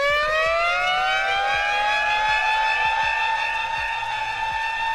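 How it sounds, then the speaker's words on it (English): A loud, continuous civil-defense-style siren effect is triggered from a live-stream effects unit. It rises and swells steadily, with a faint rhythmic beat running underneath. "Have to have the siren in there."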